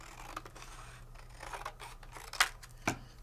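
Scissors cutting paper for a handmade craft project, quiet scattered snips that end in two sharp, louder closing snaps near the end, alone with no talk.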